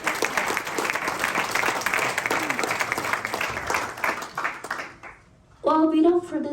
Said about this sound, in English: please give all of us a round of applause